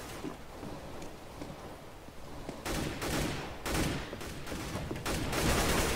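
Gunfire in the video game CS:GO comes in several rapid, rattling bursts over a constant noisy background, growing denser and louder toward the end.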